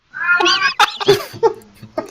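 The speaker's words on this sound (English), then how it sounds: "Sounds like he's in heat." A cat meows and caterwauls loudly and close by, a string of drawn-out wailing yowls followed by shorter, choppier cries, with no talking over it.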